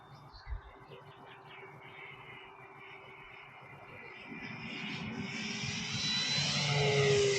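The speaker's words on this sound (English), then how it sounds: "Really nice power from this RC airplane." An E-Flite Cirrus SR-22T radio-controlled model airplane flying outdoors, its electric motor whine faint at first, then swelling steadily louder as it approaches, with a brief thump early on.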